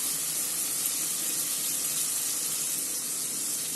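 Cow ghee pours into a pan of chicken biryani masala, producing a loud, steady sizzling hiss that lasts the whole few seconds without talking.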